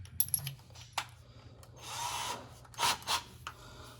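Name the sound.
drilling to enlarge a hole in car floor metal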